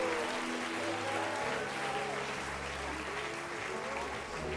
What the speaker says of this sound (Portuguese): A igreja pode dar um forte aplauso a Jesus